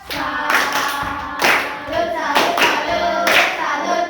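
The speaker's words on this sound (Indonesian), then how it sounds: "Sekarang beri tepuk salut untuk kelompok Mas. Tepuk salut." Classroom students perform a rhythmic clapping cheer, bursts of loud, close group claps in a repeating patterned beat with short pauses between phrases and voices chanting along.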